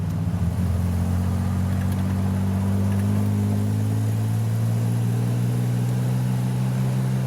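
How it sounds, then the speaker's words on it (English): An Aston Martin DB2/4 Mark III rolls into a turn in second gear, its engine a steady, low, droning hum heard from inside the car at an even level throughout. "We're going to roll into this turn in second gear."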